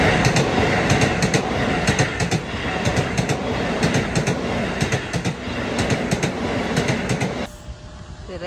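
A train passes close by during a cherry blossom outing in Japan. It gives a loud continuous rumble with rhythmic clickety-clack wheel beats throughout, then drops away abruptly near the end.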